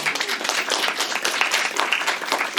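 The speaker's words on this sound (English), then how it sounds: "Let's all give a round of applause for that." A small audience at a recruiters panel gives a brief, moderate round of applause, with clustered claps running steadily for a couple of seconds.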